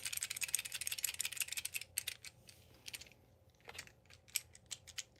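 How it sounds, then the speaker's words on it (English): A fidget toy clicked rapidly and closely, a dense run of sharp small clicks that thins into scattered single clicks, quiet with no talk. "I like this one because it's a really nice click"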